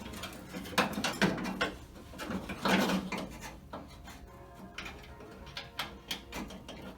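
Metal and wooden clunks, scrapes and rattles from raising and bolting a door handle inside a 1970-72 Chevelle door, in irregular close bursts with quieter handling between.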